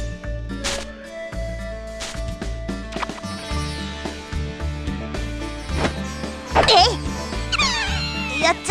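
Cat meows in the visual novel game Little Busters, a couple of quick meows near the end over steady game sounds, with someone talking throughout.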